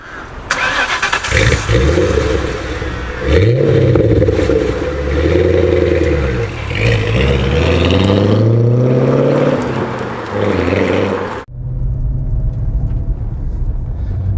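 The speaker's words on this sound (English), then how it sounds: "Time for the first V8 startup." An MG ZT260 V8 car engine cranks and roars to life, then revs hard several times with deep, throaty rises and falls before dropping back to a low idle.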